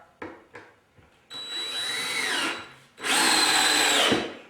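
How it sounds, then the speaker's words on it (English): A power drill drives a single screw into a wooden printer stand: a few faint clicks, then two loud sustained whirring bursts of about one and a half seconds each, close and with no talking. "I'm just going to put one screw in there"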